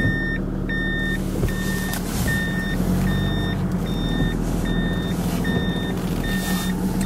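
A vehicle's reversing alarm beeps steadily at a regular pace while backing up, about ten evenly spaced tones over a constant rumble of engine and road noise.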